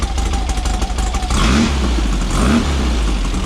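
Dune buggy engine revving outdoors, a loud rough mid-range drone with a steady idle-like rumble broken by two sharp blips of throttle, no voices.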